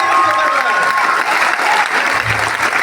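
Loud, sustained applause from an audience at a gathering, a thick continuous roar of many hands clapping with a faint murmur of voices underneath.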